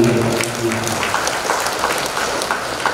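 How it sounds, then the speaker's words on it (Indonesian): A crowd at a farewell-and-welcome ceremony for a district military commander in Indragiri Hilir gives a round of applause, steady broadband clapping throughout, with a voice speaking briefly at the start. "Kita berikan tepuk tangan."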